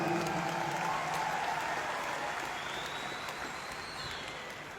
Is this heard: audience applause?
yes